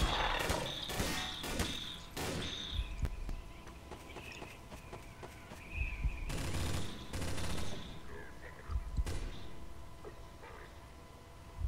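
Gunfire in Garry's Mod's Stalker mode, with loud bursts of rapid shots early and again midway, separated by quieter stretches of ambient game noise and faint clinks.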